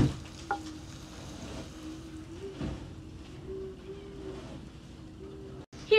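Garlic, butter and olive oil sizzle steadily in a pan while homemade meatballs are being prepared. A continuous close hiss runs throughout, with a short break just before the end.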